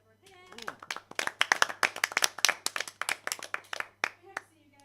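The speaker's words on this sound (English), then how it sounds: "we need a round of applause to everyone here" A small group claps at the close of a live stream event, a quick burst of sharp, distinct hand claps mixed with people talking and laughing.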